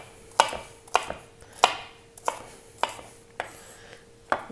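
A knife chops a bell pepper on a cutting board, landing about eight sharp, close thuds at a slow, slightly uneven pace over a quiet steady hum.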